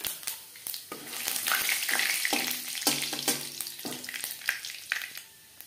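Panch phoron spices crackle and sizzle in oil left over from frying bhangar fish, with scattered pops and spoon scrapes against the pan in a steady, close frying noise.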